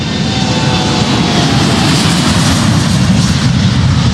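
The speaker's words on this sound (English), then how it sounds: "Plane taking off there as always." A fixed-wing airplane taking off near a golf course gives a loud, steady roaring drone that fills the whole stretch without a break.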